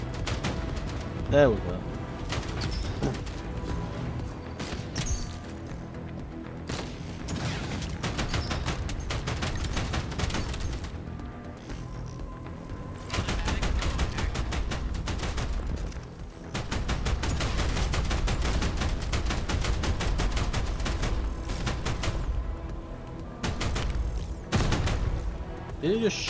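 Bursts of rapid gunfire from the Outpost Infinity Siege game aimed at an explosive barrel, loud and dense throughout, with booming impacts and someone talking over it.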